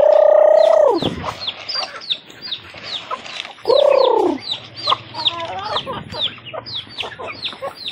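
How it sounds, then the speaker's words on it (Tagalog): Pet chickens, a rooster and ducks waiting to be fed at a mountain homestead, with two loud crows rising above a close, continuous chatter of clucks and bird calls. "Papakain naman tayo ng alaga nating mga manok at bibi."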